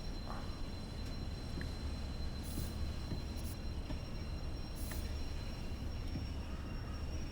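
A train in the Train Sim World 5 game running on the Innsbruck–Garmisch-Partenkirchen Mittenwald line with its brakes dragging, giving a quiet continuous rumble of wheels and rail noise with a thin sustained squeal and occasional faint clanks.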